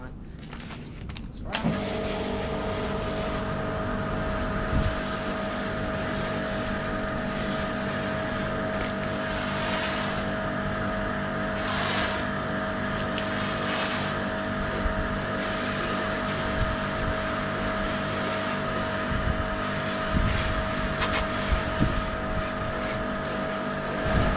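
A pressure washer with an MJJC Pro Cannon lance rinses snow foam off a car, a loud continuous spraying roar with a steady mechanical drone running throughout, with someone talking over it.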